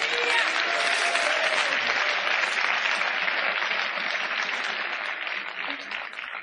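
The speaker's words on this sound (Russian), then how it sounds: "Дай Богу аплодисмент." A church congregation clapping together, sustained dense applause that fills the room and slowly tapers off toward the end.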